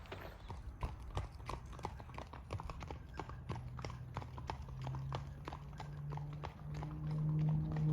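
Horses' hooves clip-clop at a steady walking pace, several animals passing close by on a trail at the Grand Canyon South Rim, with a low hum rising toward the end and faint voices at times.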